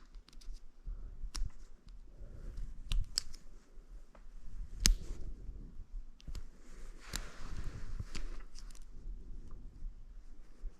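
A thin screwdriver pries a yellow plastic retainer out of a fuel injector connector, making scattered sharp plastic clicks and scrapes, faint and close, with one louder snap midway and no talk.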